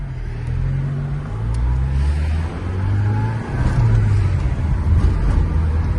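A 1984 Saab 900 Turbo drives along with a steady, loud cabin engine drone and low rumble that swells as it accelerates, alongside road noise and no talking.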